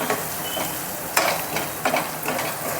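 Sliced onions frying in a pan with turmeric and salt for a makhana curry, a steady sizzle broken by several scraping stirs of a spoon against the pan, close and fairly loud with no talk.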